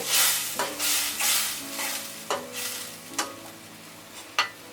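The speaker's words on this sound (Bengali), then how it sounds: "এখন আমি এটা ভালো করে কষিয়ে নিব" Chopped onions sauté in a pan with a continuous hiss. A spoon gives a series of sharp stirring scrapes and knocks close by, with no voices.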